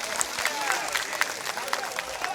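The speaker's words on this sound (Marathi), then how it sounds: "आपण एकदा जोरात टाळ्यांचा कडकडाट होऊन जाऊ द्या" A crowd at a Maharashtra political rally claps in scattered, fairly distant applause with sharp individual claps. A voice is faintly audible beneath the applause.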